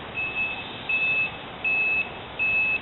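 A low-voltage alarm beeps as its reading drops to 3.7 on the battery powering bright 10mm LED lights fitted to a school bus shell. Four thin, high electronic beeps of uneven length sound against a steady hiss.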